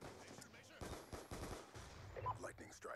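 Rapid bursts of gunfire in Black Ops 2, quick repeated shots at moderate distance mixed with game sounds and brief background voices.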